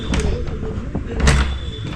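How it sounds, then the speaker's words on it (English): A bathroom door pushed shut by someone standing in a cramped shower stall in Colombia, a muffled thump and brief rattle at close range over a low room hum, no voices. "So stand in the shower and close the door."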